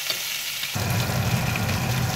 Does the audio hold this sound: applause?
no